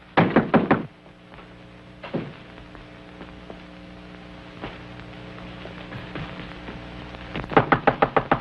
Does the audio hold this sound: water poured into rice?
no